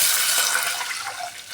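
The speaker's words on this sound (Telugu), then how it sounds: "1కి 2 పోస్తున్నా నేను నీళ్ళు." Water is poured into a cooking pot of rice and dal, a brief, moderately loud splashing stream with no voices.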